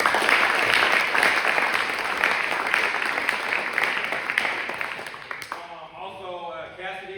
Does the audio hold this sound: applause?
yes